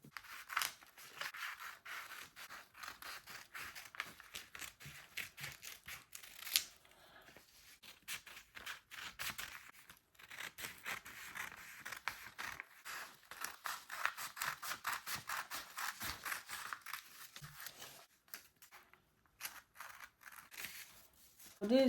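Scissors cut out a corset pattern piece from fabric, with a long run of rapid, quiet snipping clicks and rustles close by, broken by a few short pauses.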